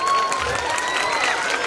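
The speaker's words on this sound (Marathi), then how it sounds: "एकदा पुन्हा या विद्यार्थ्यांसाठी टाळ्या होऊ द्या" An audience claps for students after their dance performance at a school event: a short, continuous patter of applause with light background voices.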